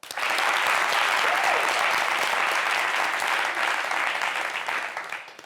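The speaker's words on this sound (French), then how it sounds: "Applaudissez." Studio audience applauding at a Côte d'Ivoire fashion talk show, the clapping dense and steady for about five seconds before easing off toward the end.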